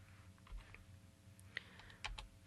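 Quiet typing on a computer keyboard while entering HTML code, a few scattered soft keystrokes followed by a quicker cluster of clicks near the end.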